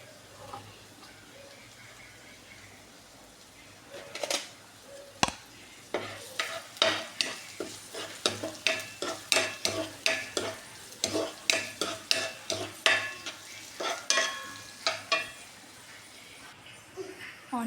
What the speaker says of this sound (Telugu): ఇప్పుడు ఆనియన్స్ వేస్తున్నా, లైట్గానే కొంచెంగా వేసుకున్నాం అండి. ఈ ఆనియన్స్ వేగుతున్నాయి కదా